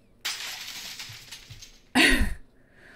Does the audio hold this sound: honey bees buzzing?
no